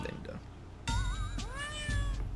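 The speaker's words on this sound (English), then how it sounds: "This one's got a kitty cat." A cat in the DS game Osu! Tatakae! Ouendan gives a loud, drawn-out meow with wavering pitch, followed by a second meow, over a busy low rumble of background sound.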